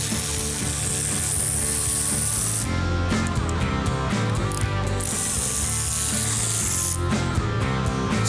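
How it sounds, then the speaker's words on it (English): A ratchet undoes the bolts holding the third member on the rear axle of a 1971 Plymouth 'Cuda 340 convertible. Steady, dense mechanical clicking runs throughout with short breaks, close and loud in a shop. "So now I'm going to undo all the bolts that hold the third member in place"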